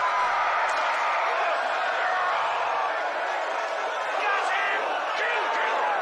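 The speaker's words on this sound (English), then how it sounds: "how the crowd is yelling, kill him!" A Roman arena crowd roars and yells for a kill in the film Gladiator, a dense, continuous wall of shouting voices with scattered whoops, sustained and loud throughout.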